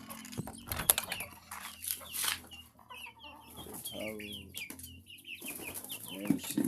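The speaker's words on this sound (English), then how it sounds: "You can see the chickens." Chickens cluck and squawk inside a small, dirty backyard poultry house, close and irregular bursts with varied calls, while someone briefly speaks between them.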